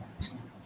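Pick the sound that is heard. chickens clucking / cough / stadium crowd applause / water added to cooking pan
cough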